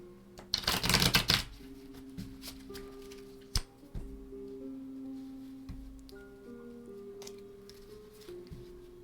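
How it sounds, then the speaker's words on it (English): A deck of tarot cards is shuffled in one quick, crisp riffling burst near the start, then a few soft clicks and taps from the cards follow. "I can shuffle this way, I just don't like to."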